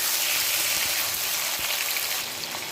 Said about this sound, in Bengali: মাংস 3-4 মিনিট ভাজি করে নিয়েছি